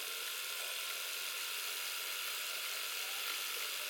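A sewing machine stitches a fabric napkin bow with a continuous fast, mechanical whirring buzz at close range, steady throughout with no talking.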